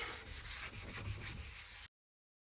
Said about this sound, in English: when I'm wiping, I'm just not wiping in the one little spot. I'm carrying it over, back and forth